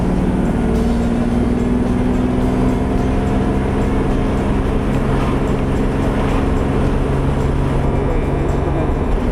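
A 1962 Jaguar Mark II sedan pulls away and runs up through its gears, engine drone rising and settling in steady tones from inside the cabin, loud and continuous with no speech.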